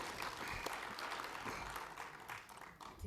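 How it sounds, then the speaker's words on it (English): Applause from an audience at a parliamentary legal counsel colloquium, steady dense clapping sustained for the whole stretch at moderate, slightly distant level. "another round of applause, please"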